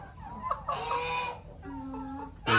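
Hens cluck in a chicken yard, a few close, fairly quiet clucks and drawn-out calls in broken rhythm, with no talk over them.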